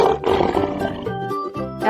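A cartoon lion roar from giant animal creatures at a fountain: a loud, rough, sustained roar with a short break and a second surge, close and alone.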